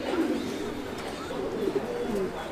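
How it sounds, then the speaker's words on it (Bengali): Fancy pigeons at a farm coo softly in low, rolling calls, several short coos rising over a quiet background. People talk faintly nearby. "তো ইসু ভাই এখানে এটা আমরা কি কবুতর দেখছি?"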